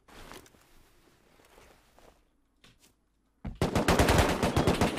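Gunfire from an enemy player in the Rust video game: a few scattered shots early, then a loud, rapid automatic burst of close, dense shots that fills the final second and a half.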